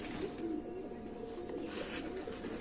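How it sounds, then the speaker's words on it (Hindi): A pigeon coos softly in low, throaty repeated notes, close by, over a steady background hum. "ये कबूतर है"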